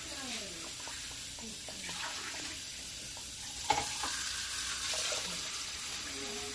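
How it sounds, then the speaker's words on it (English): Water is poured into a cooking pot for yam porridge, a splashing trickle that sizzles against the hot base, followed by soft stirring clinks and a single sharp knock, heard close up under a quiet room background. "I'm just going to add some water now, more than 1 cup, because we're actually going to add yam."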